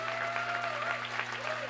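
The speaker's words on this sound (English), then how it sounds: "the near capacity crowd here rises to their feet to cheer for them" A near-capacity crowd in a basketball gym at Leake Academy rises to applaud senior players, sustained clapping and cheering with a faint tonal hum beneath.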